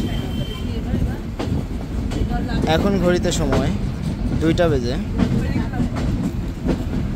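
The Sundarban Express rolls into Mobarakganj railway station with a continuous rumble and rhythmic clatter of wheels, while someone talks over it throughout.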